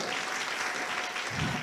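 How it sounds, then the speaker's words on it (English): Brief burst of dense crowd applause at an outdoor jazz stage festival for young people, many hands clapping steadily and fairly close for under two seconds. "Can we give Daddy a round of applause?"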